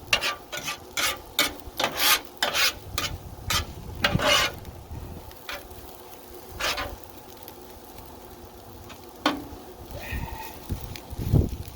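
Italian fried rice is scraped and stirred with a metal spatula on a hot Blackstone griddle outdoors: repeated rasping strokes over a steady low sizzle, with no talking.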